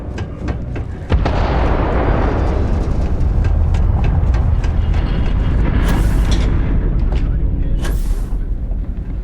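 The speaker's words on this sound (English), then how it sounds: "Particle detonation concluded." A massive particle detonation explosion in the Starfield video game, a loud sustained roaring boom with rumbling debris and a couple of sharp crackling bursts near the end.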